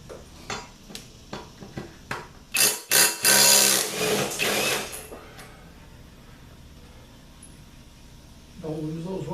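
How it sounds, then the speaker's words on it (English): Wrench or socket work on a lawn mower blade being removed with a 14mm socket: a run of sharp, evenly spaced metallic clicks, then a few seconds of louder scraping and clanking close by, fading to quiet with a low hum at the end. "So the first thing to do is to take the blade off"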